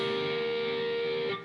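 A distorted electric guitar plays two notes of the solo with one upward pick stroke, holding a steady sustained double-stop alone before it fades and shifts slightly at the end.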